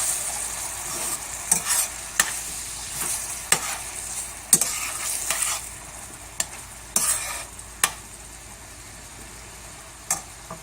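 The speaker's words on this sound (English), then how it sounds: "Let that wine reduce." Wine reducing in a pan for a shrimp scampi sauce, a gentle sizzle punctuated by repeated sharp utensil scrapes and stirs, close and fairly loud.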